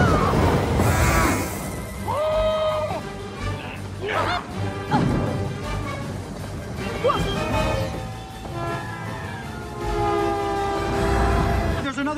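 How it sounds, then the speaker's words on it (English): A train approaches in an animated film scene with horn blasts and rumbling, crashing rail noise, loud and close throughout, with frantic voices mixed in. "Another train coming!"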